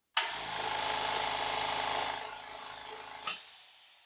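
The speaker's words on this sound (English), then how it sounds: "it's a very quiet air compressor. Let's turn it on." A Grizzly T32336 four-gallon quiet air compressor starts and runs with a steady, moderate hum and hiss, then stops with a brief loud release burst at the end.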